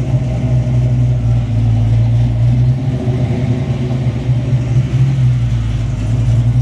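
Ford Foxbody Mustang on a test drive around the block, with a steady low engine rumble and road drone filling the interior and holding fairly loud throughout, without voices.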